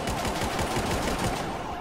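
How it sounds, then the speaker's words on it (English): Gunshots from police officers in GTA V, a San Andreas State Trooper chase, ring out as a dense, loud stream of rapid shots across the whole short stretch with no pause. "Shots fired by officers."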